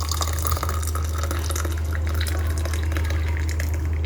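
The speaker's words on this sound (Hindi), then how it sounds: "तो ये बादामों का कावा जो है हम अब कप में ऐड करेंगे, कप में डालेंगे।" Almond milk kahwa, a milky almond drink, is poured into a cup, giving a steady close liquid splashing and trickling over a constant low hum, with no talk.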